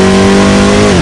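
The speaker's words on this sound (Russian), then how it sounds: "Высокооборотистые моторы турбов, они визжат" High-revving turbocharged car engine from the racing video game Adrenalin 2: Rush Hour, a loud, steady whining drone held close and alone for about a second, pitch dipping slightly at the end.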